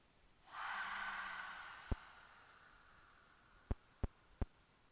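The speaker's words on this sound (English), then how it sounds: "let's just inhale through our nose and exhale through our mouth" One long, steady breath drawn in and released during a yoga flexibility session, soft and close, followed by a few sharp clicks and taps.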